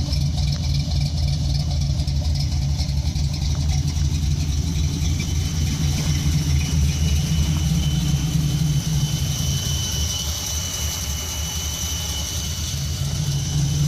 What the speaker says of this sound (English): Idle her down. That's a Hughes whiplash cam.